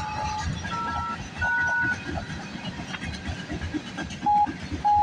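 A CN freight train passes at night with a steady rumbling roar of rail cars, joined by short repeated horn-like tones, loud and close.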